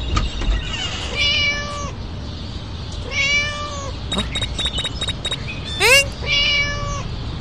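Cat meowing inside the video game Scary Teacher 3D, several distinct drawn-out meows in separate bursts, clear and fairly loud over a low game background hum.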